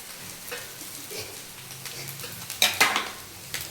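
Street-style chicken fried rice is tossed and stirred in a pan over a soft background sizzle, building to a few loud scraping clatters of a ladle against metal near the end.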